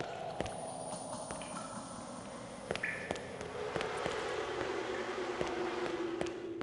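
Footsteps tap along at an uneven pace amid a busy Shadow Man game soundscape, with occasional clicks and a steady ambient hum underneath.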